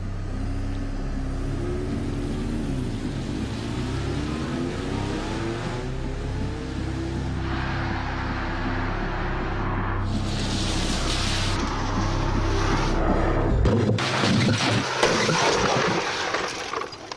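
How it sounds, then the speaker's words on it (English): A remote-controlled car rated three-star NCAP is driven at 70 mph into concrete blocks in a crash test, with a sudden loud crunching impact and a spray of debris noise rising over a steady droning background. "Another remote-controlled three-star NCAP car, 70 miles an hour, into concrete blocks."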